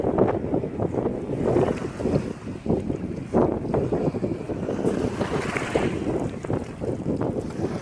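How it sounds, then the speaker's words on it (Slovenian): Strong wind blows at the seaside, a steady loud roar with gusty buffeting against the microphone and a faint wash of surf beneath, no voices. "Ta veter pa piha, kaj je zjutraj."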